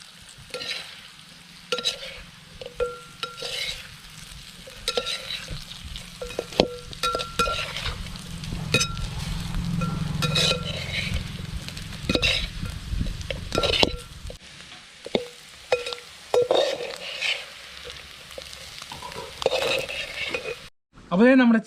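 Chicken coated in masala is stirred in a frying pan, with repeated scraping strokes and clinks of the utensil over a low sizzle that fades near the end.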